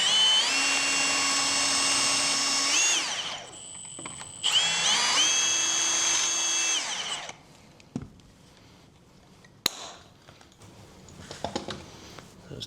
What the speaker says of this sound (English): now we just pre-drill the 2 holes for the screws to eventually go into and anchor the pieces together